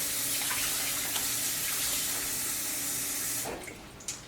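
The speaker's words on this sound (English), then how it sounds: "we'll rinse them again" Potatoes are rinsed under running water in a bowl, a close, steady splashing gush from the tap that stops after about three and a half seconds, followed by a few faint drips and a small knock.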